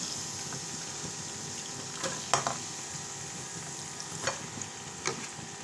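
Chopped vegetables, including potatoes and tomatoes, fry in a pan with golden-browned onions, giving a soft, continuous sizzle with a few faint clinks of stirring.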